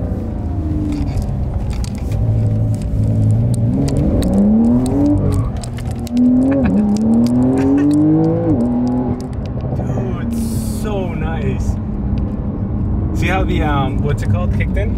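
A Porsche 992 Carrera S accelerates hard on the road, its engine note climbing in rising sweeps through several gear changes, loud and close, with people talking and exclaiming over it throughout.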